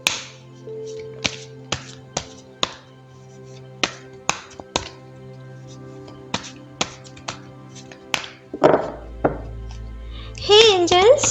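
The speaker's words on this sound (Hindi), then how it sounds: "तो चलिए पहले ज़रा कार्ड्स को शफल कर लेते हैं।" A deck of tarot cards being shuffled gives a series of crisp, separate snaps and taps at irregular intervals, close and clear, and a voice speaks near the end.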